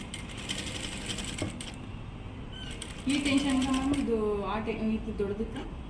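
Sewing machine stitching thread piping, its rapid mechanical chatter running steadily through the clip with a voice talking over the second half.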